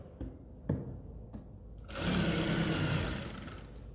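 Sewing machine stitching along the center of a kurti, a steady mid-loud mechanical whir running for about two seconds after a few light clicks and taps.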